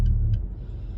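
Low rumble of a car engine idling at a red light, steady and close from inside the cabin, with two faint ticking clicks early on.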